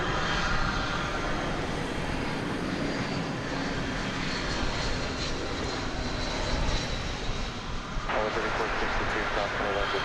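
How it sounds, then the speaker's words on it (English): An American Airlines Airbus A321 jet passes at DFW Airport with a loud, continuous engine roar, while a voice talks over it. "American Airlines and Airbus A321 now passing through those trees into our view"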